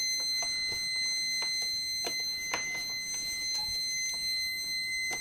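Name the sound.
beeping while testing faulty hairdryer cord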